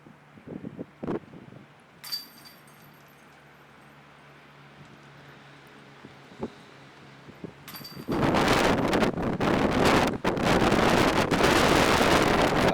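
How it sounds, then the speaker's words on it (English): Strong gusts of wind buffet the microphone on a disc golf course during a tournament, light at first with a few knocks, then a loud, continuous roar rushing over everything. "It's really windy today."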